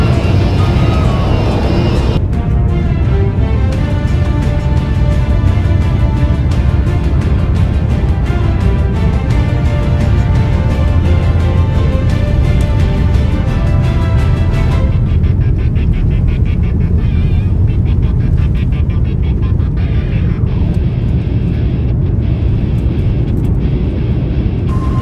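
A loud, steady roar of jet engines fills an aircraft cabin as the plane takes off, a continuous rumbling drone that holds without pause.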